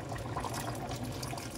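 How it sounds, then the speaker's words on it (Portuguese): Water pours into a cooking pot holding turkey breast, potatoes, tomato and pepper, a steady splashing trickle at moderate level with no talk over it. "Agora, vou pôr a água"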